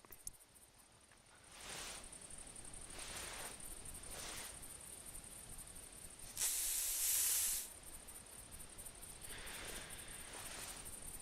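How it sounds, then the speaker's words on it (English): Scent spray hisses in a hunting video game in several soft bursts, then one longer, louder spray, over quiet game ambience. "Let's go ahead and just spray some of this on so I can stop."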